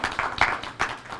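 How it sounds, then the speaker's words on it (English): Brief bursts of clapping from a crowd at a parents' meeting, coming in uneven waves over a short stretch. "let's give her a round of applause"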